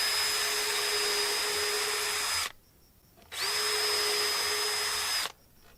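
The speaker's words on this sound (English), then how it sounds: "When in doubt, pre-drill." A power drill pre-drills holes in wood, two steady high whining bursts each about two seconds long separated by a short pause, close and loud with no talk.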